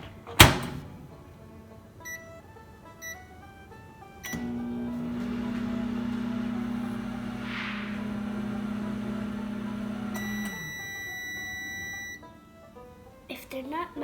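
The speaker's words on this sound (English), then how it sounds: "put the bowl in the microwave for 30 seconds" A microwave oven hums steadily for several seconds while heating a small bowl of green candy melts, opened and closed with clicks and beeps around the run; quiet room, no talk over it.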